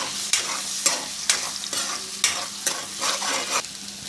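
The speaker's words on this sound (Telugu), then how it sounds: "ఎగ్స్ వేసుకున్నాక కలుపుకోవాలండి" Eggs for egg fried rice sizzle in a hot pan while a spatula stirs and scrapes them in quick, regular strokes, about a dozen sharp scrapes close up over the frying hiss.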